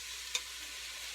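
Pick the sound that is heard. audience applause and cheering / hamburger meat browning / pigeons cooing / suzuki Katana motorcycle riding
hamburger meat browning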